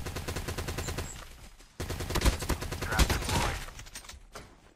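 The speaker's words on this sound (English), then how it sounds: "I don't know if they were shooting at some guy down here." Rapid bursts of automatic gunfire from the ICR rifle in Call of Duty Mobile ring out loud and close, one long run of shots, a short gap, then another dense volley.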